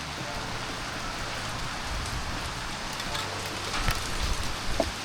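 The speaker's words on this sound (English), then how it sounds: "look at the size of the hail." Hailstones pelting surfaces outdoors during a sudden storm at an outdoor cooking spot beneath an old gum tree, a dense steady patter with a few sharper impacts near the end and faint voices in the background.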